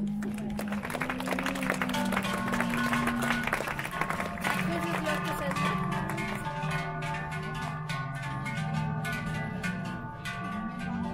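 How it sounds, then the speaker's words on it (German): A crowd claps steadily at a Swiss cattle show during an award ceremony, the applause running throughout under ringing cowbell-like tones and sustained droning notes. "Ich glaube, auch da ist ein Applaus wert."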